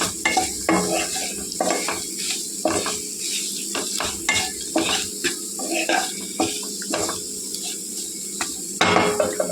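Chicken fries in a pan with frequent stirring: a loud sizzle broken by repeated scraping and clattering strokes of the spoon, up close and with no one speaking.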